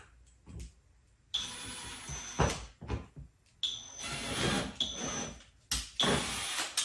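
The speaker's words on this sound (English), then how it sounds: "I'm going to come in and drill at an angle" Bursts of a high-pitched power drill whine, drilling at an angle while assembling a septic riser, several short runs with brief pauses between, close and loud, with clattering in the gaps.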